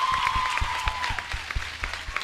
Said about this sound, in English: let me ask you to give her a round of applause